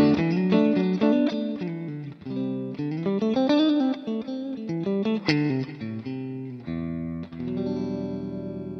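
Clean electric guitar tone through an Axe FX amp model with cab, delay and reverb, a run of plucked notes and chords in a flowing rhythm, ending on a sustained ringing chord, played alone.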